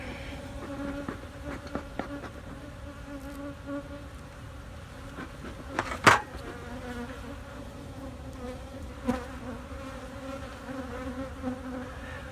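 Honeybees buzzing steadily around an open hive during an inspection, a continuous close hum with a few louder knocks and bumps from frames being handled, no speech.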